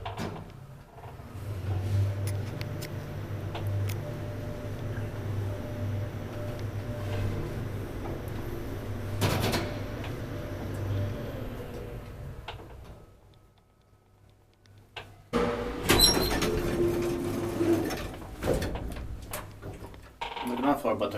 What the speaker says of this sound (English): Here's the Otis door operator.